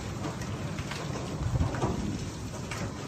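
Hail storm in Princeton, Texas, heard as a dense, steady patter of falling ice and rain on surfaces, fairly faint and continuous, with a low rumble swelling briefly midway.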